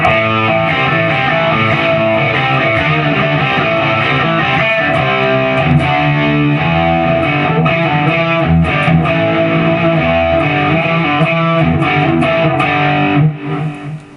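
A heavily distorted electric guitar plays a steady chugging riff with chord changes, loud and continuous, with no voices.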